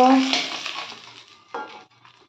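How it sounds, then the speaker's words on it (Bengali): Rohu fish pieces fry in mustard oil, a close sizzle that starts loud and fades, followed by a short clink of utensils and a brief flare of crackling. "এভাবে আমি সব মাছগুলোকে ভেজে নেব"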